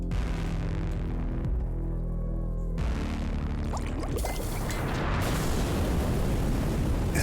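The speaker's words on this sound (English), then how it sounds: "an explosion lights up the night." A video game explosion in BattleJuice Alchemist, a deep boom with rumbling, crackling debris spreading across the full range and sustained at a loud, steady level for several seconds, alone without talk.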